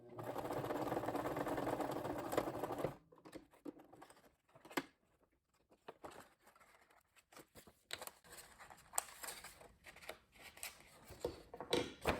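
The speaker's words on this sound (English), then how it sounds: "And we're just going to stitch this on the edge." A sewing machine stitches along the edge of a fabric tab made from sample-book fabric, running in a loud steady whir for about three seconds, then stopping, followed by quiet clicks and handling noises.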